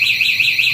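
A V12 remote alarm on a Honda C70 motorcycle sounds loud and close, a shrill warbling electronic tone that pulses steadily throughout.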